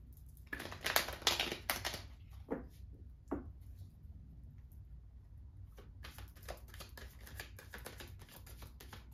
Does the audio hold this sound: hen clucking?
no